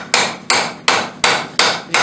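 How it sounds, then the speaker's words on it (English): A hammer striking hot steel while forging a rose petal: six sharp, evenly spaced metallic blows, each with a brief ringing decay, close and loud with no voices. "you can vary the amount of hammer marks that you would like to incorporate on your petals for different textures"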